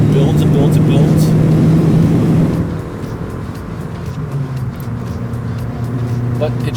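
A Lancia Delta Integrale Evo II engine drones loudly from inside the car with a deep, steady hum, then eases off to a lower, quieter rumble before slowly building again.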